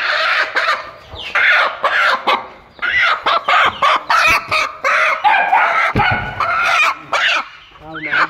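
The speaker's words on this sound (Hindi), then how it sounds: "अल्हम्दुलिल्लाह दोस्तों मुर्गी मैंने पकड़ ली है" A caught hen in a Pakistani Punjab village clucks and squawks loudly and repeatedly in agitated bursts, close to the microphone, with short pauses between outcries.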